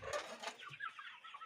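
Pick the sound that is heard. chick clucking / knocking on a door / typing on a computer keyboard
chick clucking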